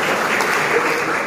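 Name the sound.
applause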